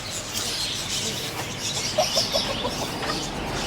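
A country chicken clucks in a few short, soft bursts amid outdoor background noise and faint bird chirps.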